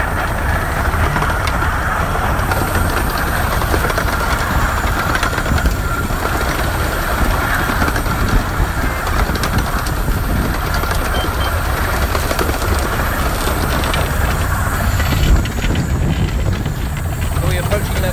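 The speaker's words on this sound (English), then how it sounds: "Just a breath of steam to keep the train moving." A steam locomotive on the Romney, Hythe and Dymchurch miniature railway runs steadily, heard from the cab as a constant loud rumble and rattle of wheels and motion throughout.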